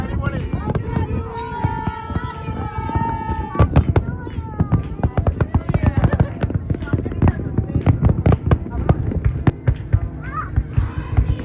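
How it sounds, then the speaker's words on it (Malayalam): New Year fireworks over the sea by the Burj Al Arab in Dubai, with a long run of sharp bangs and crackles that grows denser after the first few seconds, heard among a crowd's voices and cheering. "ബുർജൽ മുകളിൽ നടക്കുന്ന വെടിക്കെട്ട് നമ്മൾ കാണാൻ പോണത്"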